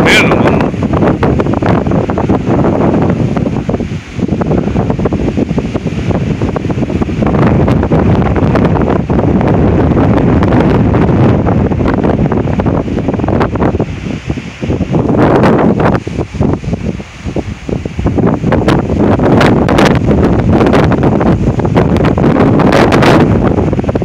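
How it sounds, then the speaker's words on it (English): Powerful non-thunderstorm wind gusts of 40-60 mph in Oklahoma roar and buffet the microphone continuously, loud and close, with brief lulls between blasts. "this is tropical storm force wind, at least tropical storm force wind gusts"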